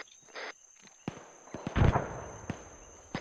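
Gunfire in the video game ArmA 3: a string of sharp cracks and thuds, a few spaced single shots and a heavier burst in the middle, some near and some more distant, with no talk over them.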